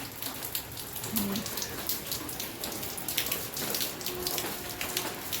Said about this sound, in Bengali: এক নাগাড়ে বৃষ্টি হচ্ছে, বাইরে বেরোনো যাচ্ছে না